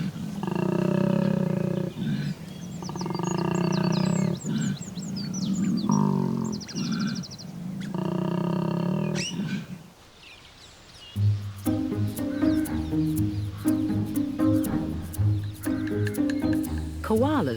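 Male koala Rocky bellowing in mating season: deep, loud, rhythmic snoring-grunt roars in repeated bursts, then a stretch of other layered tonal sound after a brief pause.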